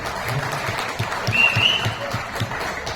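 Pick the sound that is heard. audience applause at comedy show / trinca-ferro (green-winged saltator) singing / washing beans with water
audience applause at comedy show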